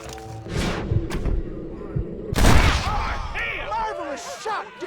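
Gunfire rings out during a Red Dead Redemption shootout mission: a loud close shot early, then a heavier booming blast near the middle, followed by voices and scattered in-game noise.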